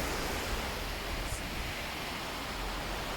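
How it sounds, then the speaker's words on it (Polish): Steady, broadband rushing of flowing water fills the scene, constant and even throughout with no voices or other distinct sounds. "piękny szum wody i czysta woda nawet"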